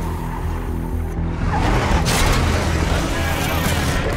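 Rumbling heavy engine drone of a giant armored car driving through a zombies game trailer, a low steady roar that swells and thickens midway with gritty mechanical noise.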